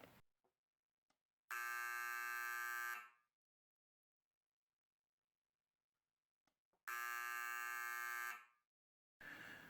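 An overcurrent alarm buzzer triggered by an EOCR relay sounds in two loud, steady electronic bursts of about a second and a half each, separated by near-silence with faint clicks.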